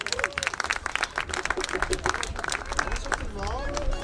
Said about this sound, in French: vous pouvez l'applaudir chaleureusement